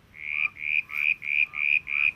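Tasmanian tree frog calling in the Tasmanian Wilderness World Heritage Area, a run of six or seven evenly paced, high nasal croaks close to the microphone with no voices.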